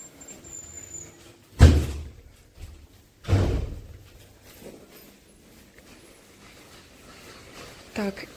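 Hotel entrance door opened and shut twice as people walk back inside, each a sharp thud, with a fainter knock near the end over quiet background.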